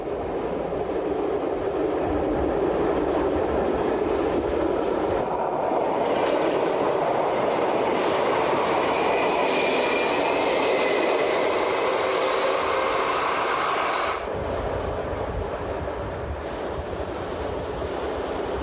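Train running along the Lake Thun line toward Spiez in Switzerland, a loud, steady rolling roar with rushing wind and rail rumble throughout, easing slightly near the end.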